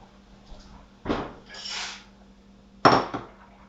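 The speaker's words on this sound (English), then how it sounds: "I'll stir them and then turn the heat down" Two sharp metallic scrapes and clanks of a utensil against a pot while stirring boiling noodles, separated by a softer swishing sound, close by with no talking.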